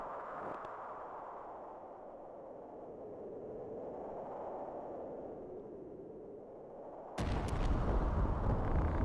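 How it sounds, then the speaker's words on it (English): A low rumbling drone swells and fades in the game Final Fantasy Tactics, then a sudden loud explosion bursts in abruptly and sustains as a heavy wash of noise. "What was that? An explosion?"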